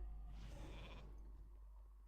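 A sheep bleat from a polymorph spell in World of Warcraft, one wavering call lasting about half a second, moderately loud over a constant low game hum.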